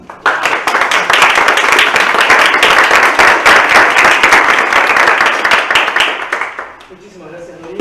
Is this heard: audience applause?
yes